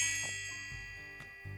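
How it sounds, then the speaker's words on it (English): Shop door bell in a tailoring video game rings with a bright metallic ding, followed by a few softer chimes and clangs over a sustained tonal backdrop. "The bell rings, and I look up at the door."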